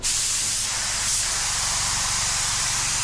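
Compressor-fed 1.8 primer spray gun spraying primer in a garage, a loud, steady hiss of atomised spray held for about three seconds, with a low compressor hum beneath.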